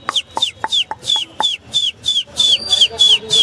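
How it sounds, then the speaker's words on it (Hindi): A person whistles a quick series of short chirping notes, about a dozen rising-and-falling bursts in a steady rhythm, to change the colour of a remote-controlled DRL fitted to a KTM Duke motorcycle, close and fairly loud. "आप अगर सीटी मारोगे ना"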